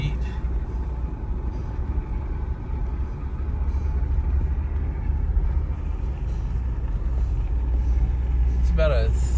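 A car drives along a snow-banked private park road near Grand Teton, its low steady rumble of engine and tires continuing throughout, with a brief brighter sound near the end.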